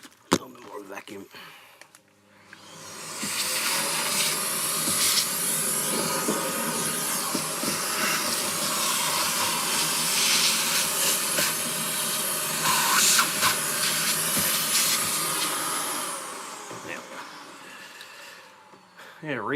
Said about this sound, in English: Get a quick clean, a little bit more vacuum.